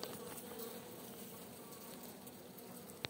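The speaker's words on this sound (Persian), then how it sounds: "زنبوری که میخواد بره" Honeybees at a hive, Caucasian and Carniolan breeds preparing for winter, fill the air with a steady close buzzing hum and scattered faint taps, with no voices.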